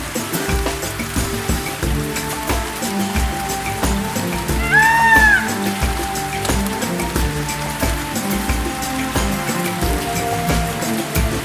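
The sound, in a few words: rain falling at a forest homestay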